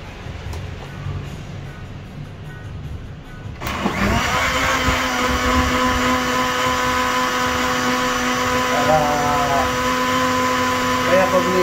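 A kitchen blender mixes a breakfast drink, switching on abruptly after a few seconds of quieter room sound and then whirring loudly and steadily with a high motor whine, while a person speaks over it.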